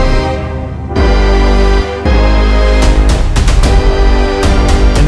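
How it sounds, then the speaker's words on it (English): Cinematic trailer hits in a song production: heavy, booming impacts land over a dense, sustained musical bed, with a burst of sharp hits and crashing transients in the second half. "And then, of course, trailer hits."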